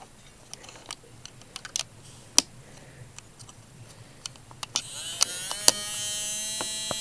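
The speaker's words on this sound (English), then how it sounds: "because the switch was on, it's already moving the motor around" A toy's small electric motor whirs steadily after about five seconds, a high buzzing hum preceded by scattered clicks and taps as the toy is handled and its switch is worked.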